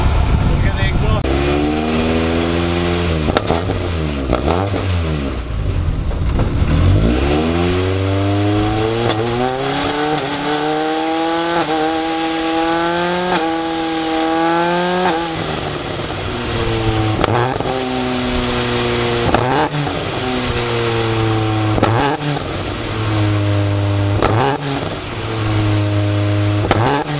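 A supercharged 300bhp MK1 Ford Escort Mexico track car revs hard and changes down through the gears repeatedly, its loud close engine and exhaust note rising and falling, with a voice talking over it.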